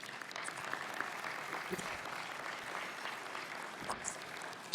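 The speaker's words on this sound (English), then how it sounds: "A round of applause for them," A luncheon crowd at the International Economic Forum of the Americas breaks into sustained applause, a dense, steady wash of many hands clapping at an even level from start to finish.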